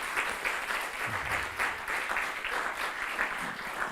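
Conference audience applause for the event organisers, a steady moderate wash of many hands clapping in a hall, without talk.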